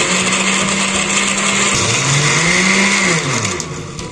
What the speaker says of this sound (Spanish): Tapamos nuestra licuadora. Y ahora sí, vamos a darle.